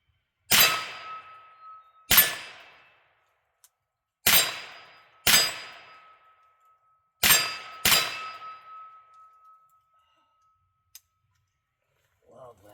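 .22LR rounds strike a ringing steel target outdoors by a creek, six sharp clangs at uneven intervals, each followed by a brief metallic ring, one carrying a longer sustained tone; fairly loud with quiet gaps between.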